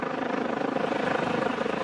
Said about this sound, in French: Dans le ciel, pour aider les super gendarmes, un hélicoptère militaire éclaire la zone.